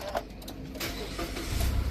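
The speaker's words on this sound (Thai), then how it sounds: "เหยียบเบรกกดปุ่มสตาร์ทครับ" A Nissan Almera is started by push button, with a few clicks and whirs followed by the engine catching and settling into a low, close idle rumble at the end.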